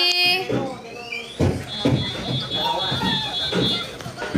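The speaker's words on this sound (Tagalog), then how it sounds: "Ano ba yung pinapatay doon? Yung alarm." A high, steady electronic alarm tone drones continuously in an indoor space while people talk and move about over it.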